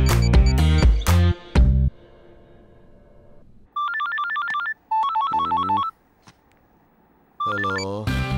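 A telephone's electronic ringtone plays in two close bursts of rapid warbling tones during a call, then starts again near the end. Loud, clear musical notes open the span, with a short pause and a brief click in between.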